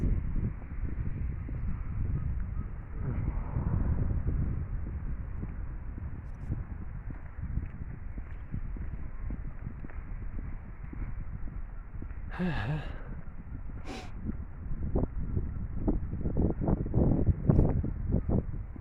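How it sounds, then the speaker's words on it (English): Wind gusts steadily across a park in the Netherlands, a continuous low rushing roar that rumbles against the microphone, with a few brief louder buffets near the end. "It's getting more windy in the park."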